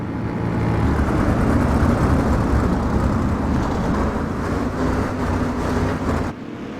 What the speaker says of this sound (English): it's going to be a battle for the championship in these sprint cars.